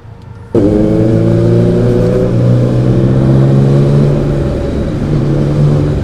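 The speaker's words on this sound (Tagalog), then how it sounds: "Medyo mas naririnig ko kasi yung exhaust ko eh, sa POV ko." A Honda CB650R motorcycle with an aftermarket replacement exhaust starts up and holds a loud, steady rumbling idle with a slight rise in revs, heard close and alone.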